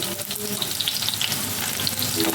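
Onions cut into quarters fry in a pan with a soft, continuous sizzle and light bubbling crackle, close by and fairly quiet.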